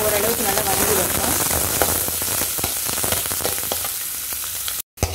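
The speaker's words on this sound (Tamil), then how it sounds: "வெங்காயம் கொஞ்சம் ஓரளவுக்கு நல்லா வதங்கி வரணும்" Chopped onion sautéing in hot oil in a pan while stuffing for aloo peas cheese paratha is cooked, a steady dense sizzle with occasional stirring scrapes, close and continuous.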